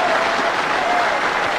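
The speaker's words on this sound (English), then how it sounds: "This crowd giving Daniel Bryan a standing ovation" Arena wrestling crowd giving Daniel Bryan a standing ovation, dense continuous applause and cheering at full volume, a steady wash of clapping hands.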